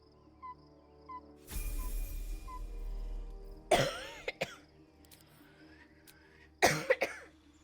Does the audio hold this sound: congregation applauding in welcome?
no